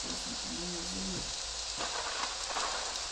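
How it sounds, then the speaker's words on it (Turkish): Steady rain patters down in a truck-driving video game, a continuous hiss under faint background talk, with a few brief tonal game sounds early on. "Yağmur yağıyor."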